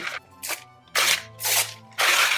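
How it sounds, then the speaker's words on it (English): Newspaper torn into strips by hand for upcycled Easter eggs on a balloon, five loud, close, crisp ripping bursts in an uneven rhythm with short pauses between them. "we're just gonna take our newspaper and tear them up into strips"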